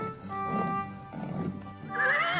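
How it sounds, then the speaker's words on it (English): A horse on a farm gives a rising, harmonic whinny near the end of a short stretch of low snorting and breathing, close and fairly loud, with no talk. "Rosie, look at that horse. It's so beautiful."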